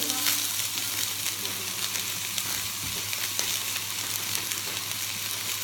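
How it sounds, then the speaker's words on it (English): Bacon sizzles steadily in hot oil in a pan for a pea and bacon carbonara, a dense continuous hiss at close range with a low hum underneath and no talking. "Get that in, get the bacon in straight away"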